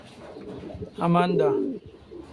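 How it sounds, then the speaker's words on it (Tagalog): A racing pigeon gives a single close, clear coo lasting about half a second, set against quiet background noise. "So special pigeon to mga to, itong dalawa."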